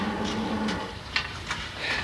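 A Holstein dairy cow moos in a low, drawn-out call that holds steady for most of a second, then brief fainter sounds follow over steady background noise.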